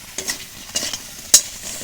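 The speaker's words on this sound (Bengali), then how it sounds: "বাকি আলুগুলোও এইভাবে ভেজে নেব মুচমুচে একদম" Potato pieces fry in hot oil, with several brief bursts of crackling sizzle and a sharp pop near the end, each separated by quieter gaps.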